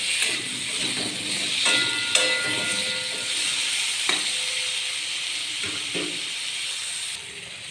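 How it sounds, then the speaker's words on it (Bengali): Potatoes fry with salt and turmeric in a pan, giving a steady close sizzle and hiss with occasional stirring knocks and scrapes. "এরপর নুন হলুদ দিয়ে আলুটিকে মিশিয়ে নিয়ে লাল লাল করে ভেজে নেব।"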